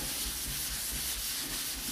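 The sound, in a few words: sanding primed car body panel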